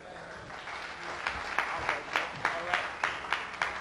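Audience applause at a talk reviewing the Million Man March, a steady wash of clapping with a regular run of louder claps standing out, heard alone at moderate distance.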